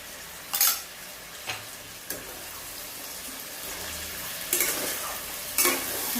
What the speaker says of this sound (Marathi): मसाला लालसर होईपर्यंत चांगला भाजून घ्यायचा